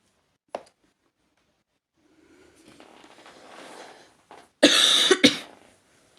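A single faint cough, then soft breathy rustling, followed by a loud harsh cough burst with a second hack close behind.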